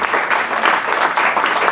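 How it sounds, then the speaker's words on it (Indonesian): A church congregation bursts into loud, sustained cheering and applause, a dense continuous roar of clapping and voices that swells and dips slightly without pause. "Berikan sorak-sorai buat Tuhan."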